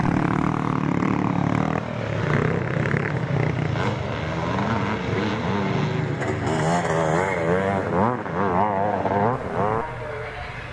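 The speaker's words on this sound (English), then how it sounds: "And so as the laps count down on this last and final race of the weekend here at Drumlanrig Castle, you're looking at number 147, Gavin Roberts" Classic twin-shock motocross motorcycles race at Drumlanrig Castle in Scotland, engines roaring and revving near and far as bikes pass, with pitch swings and gear changes throughout and a commentator talking over part of it.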